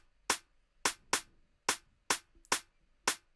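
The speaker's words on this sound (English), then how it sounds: "this little perk, and this soft snare, layer them over each other so it sounds like this" Soft layered snare hits in a steady, slightly uneven pattern, each a short crisp burst with a quick decay, played alone.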